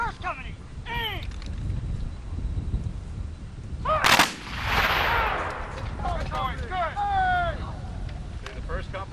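Civil War reenactors with muskets fire a company volley, one sharp, loud crash followed by a rolling echo outdoors, with shouted commands and people talking before and after.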